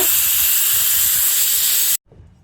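Loud, steady hiss of steam venting from a pressure cooker whistle while vegetable pulao cooks, a continuous broadband rush that cuts off abruptly near the end, leaving quiet kitchen background.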